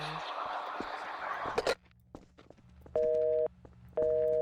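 A telephone busy tone after a hang-up in the video game Garry's Mod: two steady, even beeps late in the clip, after a noisy stretch with footsteps and some voices.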